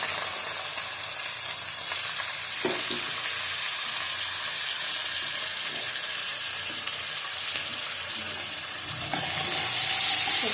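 Ginger and garlic paste fries in a pan over low flame, a steady dense sizzle with occasional stirring scrapes, close and continuous, swelling louder near the end.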